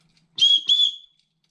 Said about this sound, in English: Not the best whistle ever, but it's plenty loud.